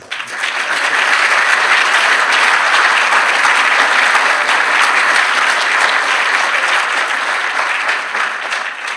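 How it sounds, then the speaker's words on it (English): Loud, sustained applause from a lecture audience fills the hall for a speaker after a talk, a dense steady wash of many hands clapping that holds evenly throughout. "Give him another round of applause."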